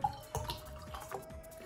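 Water drips in a drop challenge, with a few small distinct plinks spaced through a short, quiet stretch of close indoor background.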